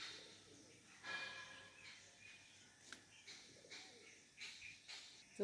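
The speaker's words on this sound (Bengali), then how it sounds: "এই যে দেখুন পায়রা চলে এসছে" Pigeons cooing nearby in a garden with plants, soft repeated low coos in short phrases at a moderate distance, over quiet background rustle and a few faint chirps.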